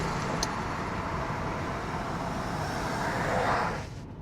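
A steady, muffled low hum of road noise inside the closed cabin of a Mercedes GLE, even and continuous before it drops away at the end.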